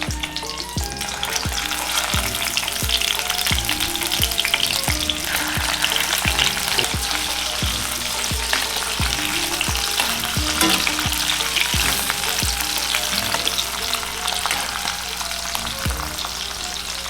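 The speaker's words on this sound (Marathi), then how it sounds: "जे टायगर प्रॉन्सला ना स्नेहा फ्राय करून घेणार आहे आणि एकदम फ्राय नाही करायचं आपल्याला एकदम हलकं फ्राय करून घ्यायचं आहे" Tiger prawns frying lightly in hot oil give a steady, close sizzle and crackle for the whole stretch, with regular soft thumps of stirring or tossing in the pan and no voices.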